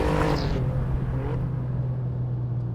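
An Alfa Romeo Giulia Quadrifoglio on a track, heard from inside as a steady loud engine drone and road rumble, with a faint shift or rev change early on.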